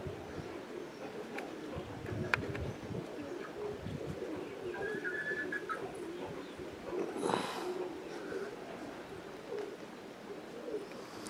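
Flying roller pigeons cooing at a high-mountain roller competition, soft low coos repeating close by over steady outdoor ambience, with a few brighter chirps and a short louder burst midway.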